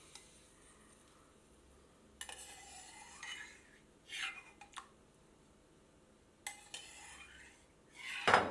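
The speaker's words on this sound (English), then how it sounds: "So I am going to add this into the paneer, into the spinach." Soaked ingredients are scraped into spinach and paneer in a pan: scattered spoon clinks and scrapes against metal with quiet gaps, ending in a louder sizzling clatter, all close and without talking.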